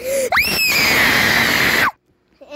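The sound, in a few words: people shouting loudly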